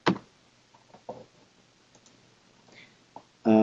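Mouse and keyboard clicks in a quiet room while formatting spreadsheet cells: a few sharp single clicks spaced over several seconds, then a louder burst of clicking at the end.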